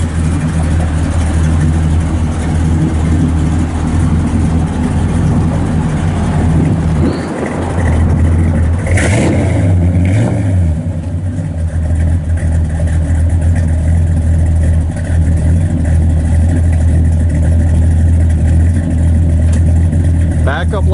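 A 1966 Chevrolet Impala SS with a 327 V8, four-speed and dual exhaust idles steadily and loudly, with a brief blip of revs partway through.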